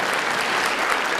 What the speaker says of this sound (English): we'll give these 2 a round of applause